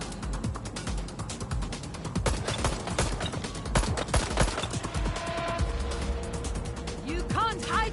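Gunfire in the video game Watch Dogs Legion, a shotgun among repeated loud bursts and impacts in a chaotic firefight, with game voices shouting over the shots.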